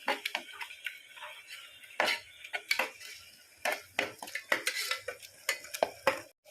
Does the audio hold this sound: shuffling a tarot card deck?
no